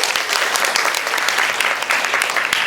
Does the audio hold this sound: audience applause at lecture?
yes